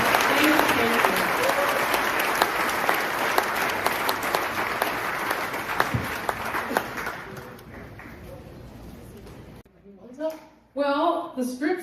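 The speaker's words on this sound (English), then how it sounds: "a round of applause for our amazing panel" A conference audience claps for a panel in a long, loud burst that thins and fades out. Speech follows once the clapping stops.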